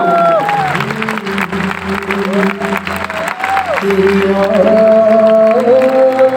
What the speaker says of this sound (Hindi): एक बार जोरदार तालियां, जोरदार तालियों के लिए, जोरदार तालियां